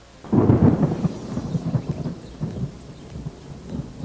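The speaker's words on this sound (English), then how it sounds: "It's sunny thundering out right now." Thunder rumbles outside, rising to a deep, loud roll that gradually fades into softer low rumbling with a faint patter of rain, and no voices.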